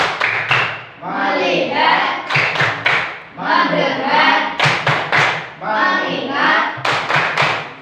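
A primary school class claps in bursts of quick rhythmic hand claps, alternating with children chanting together in unison.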